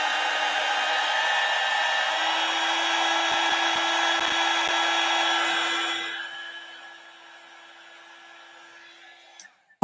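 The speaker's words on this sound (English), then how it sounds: "it's easier if you hit your dryer on here for a few minutes" A hair dryer dries paint on a one-stroke painting, its loud, steady whine and rushing air blowing close for about six seconds before it winds down and clicks off.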